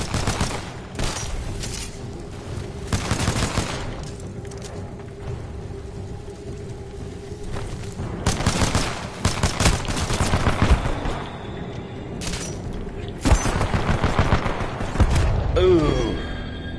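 Pistol gunshots in a pistols-only video game match, several loud sharp cracks in separate bursts spread over the stretch, with mechanical game noises between them.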